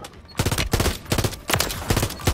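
Loud bursts of automatic gunfire in Warzone 3, several rapid volleys repeating in quick succession, close and alone.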